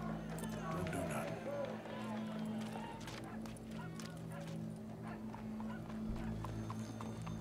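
Horse hooves clop along steadily at a moderate distance, mixed with a busy background of voices and a low mechanical hum.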